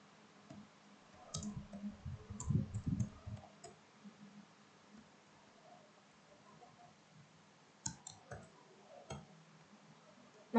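Soft keystrokes on a computer keyboard come in two short bursts separated by a quiet pause, close and faint against a low room hum.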